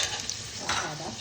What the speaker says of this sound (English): Put potatoes and fry them till they are a little golden brown.